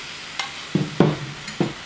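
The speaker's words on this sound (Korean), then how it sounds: "양념물을 끼얹어 가면서 굽는 거예요" Korean beef sirloin skewers (hanwoo chaekkeut sanjeok) sizzle on a pan while marinade is spooned over them, a faint steady hiss broken by a few close, sharp clacks of utensils against the pan.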